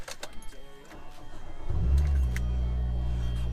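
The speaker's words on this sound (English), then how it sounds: "Turn the car on." A car engine cranks briefly and catches, settling into a steady low idle that continues close by, after some faint handling clicks at the start.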